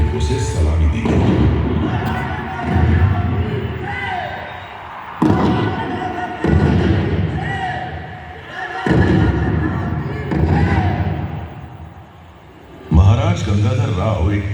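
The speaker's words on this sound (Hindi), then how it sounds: "महाराज गंगाधर राव को कड़क बिजली और भवानी शंकर की तोपों से सलामी दी गई।" Cannon salute booms in a laser show at Jhansi, several heavy thuds spaced a few seconds apart, each followed by rumbling decay, mixed under narration and music.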